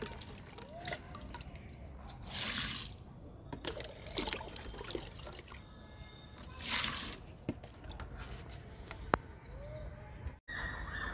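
Liquid fertilizer poured onto a sapota plant in a home garden, trickling and splashing in uneven bursts, with birds chirping faintly in the background.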